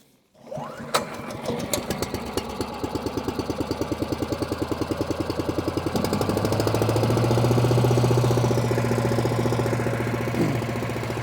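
The small gas engine of a Harbor Freight Predator residential wood chipper idles at low speed, chugging in a steady, even rhythm. It runs loud and close throughout, with no talk over it.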